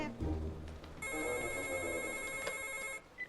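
A telephone bell rings in a film scene, a steady bright electronic trill lasting about two seconds, preceded by low rustling and thumps and ending with a brief click.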